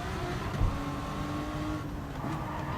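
Lamborghini race car engine in the Gran Turismo 7 video game, a steady droning whir of engine noise with a brief swell as it passes, moderate and continuous.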